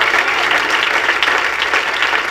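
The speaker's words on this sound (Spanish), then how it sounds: "Si ese aplauso es para Dios, déselo y adore la grandeza de su nombre." A church congregation breaks into loud, sustained applause, a thick continuous roar of many hands clapping close by with no pauses and no voices on top.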